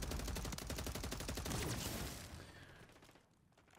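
Call of Duty MW3 gunfire: rapid automatic bursts crackle loudly and continuously for about two seconds, then thin out and fade toward the end.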